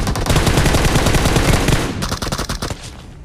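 Rapid automatic gunfire from the BGMI mobile battle game, loud and continuous, then breaking into shorter bursts near the end.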